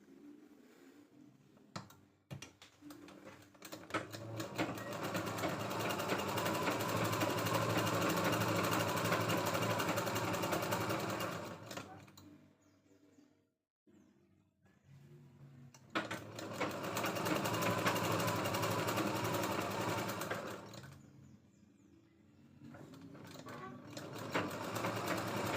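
A sewing machine stitches a one-inch folded strip onto the upper edge of a blouse sleeve, running loud and close in two long continuous bursts with a quieter handling gap between them.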